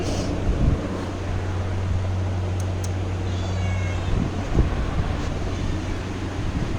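A cat meows a few times, faint and fairly distant, over a steady low hum and rushing wind noise.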